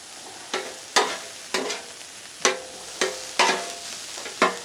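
Garlic, onions and beef sizzle on a griddle while a metal spatula scrapes and chops in a regular series of sharp strikes, each followed by a hiss.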